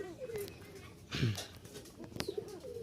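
Rajshahi Giribaz pigeons giving a few low coos at close range, quiet, with brief scuffling and clicks in between.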